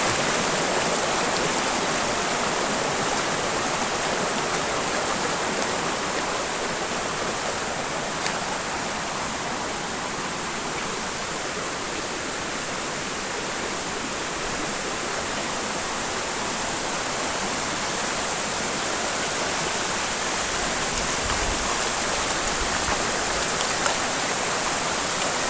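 A flowing river stream: a constant, broadband rush of water that stays even throughout, close and full, with no voices.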